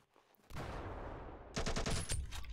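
Gunfire crackles in the Ravenfield battle simulator during a large beach invasion, a burst of rapid shots with a dense rattle, then a second louder volley of sharp cracks close by.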